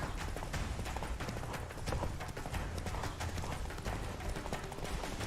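Roach, the horse in The Witcher 3, gallops in a steady, dense clip-clop of hooves, close and continuous throughout, with game effects layered underneath.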